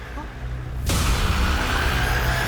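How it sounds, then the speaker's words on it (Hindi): A sudden loud blast cuts in abruptly, followed by a sustained roaring wash of noise that fills the rest of the moment. "ये तो गोली चलने की आवाज है।"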